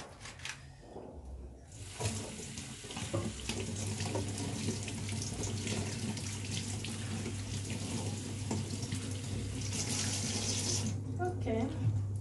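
Kitchen tap water runs steadily into a sink while food is rinsed, a close, continuous splashing stream with small clinks of handling.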